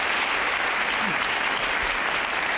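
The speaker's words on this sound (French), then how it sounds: "Applaudissez-le, monsieur," Audience applause during a live comedy sketch show, a steady, loud wash of clapping from a large crowd that continues throughout.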